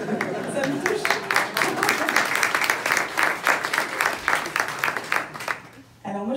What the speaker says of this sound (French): il y a quelqu'un qui essaie d'applaudir